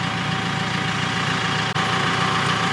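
JCB telehandler diesel engine running at a steady idle nearby, a low, even rumbling chug that continues throughout with one brief dropout.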